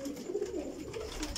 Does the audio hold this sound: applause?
no